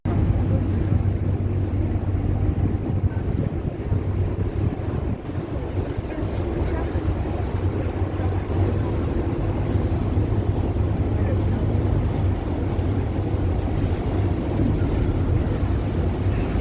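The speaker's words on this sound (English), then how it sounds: "noise of the generators running." A steady, loud low mechanical hum of a boat's running generators fills the whole stretch, with wind buffeting the microphone and faint voices in the background, at Gunwharf Quays, Portsmouth.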